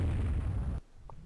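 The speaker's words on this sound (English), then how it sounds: "That was an explosion ringing through the night." A heavy, rumbling explosion in the naval warfare game Rule the Waves 2, a night battle between cruisers. The deep boom fills the first moment and then cuts off abruptly, leaving faint quiet behind it.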